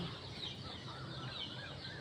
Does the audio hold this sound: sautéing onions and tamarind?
no